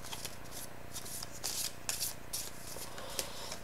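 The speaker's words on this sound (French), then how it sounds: "on va tirer des cartes avec le tarot de Marseille" Tarot de Marseille cards being shuffled by hand, several riffling bursts of papery flutter and rubbing in an uneven rhythm, close and fairly loud, with no speech.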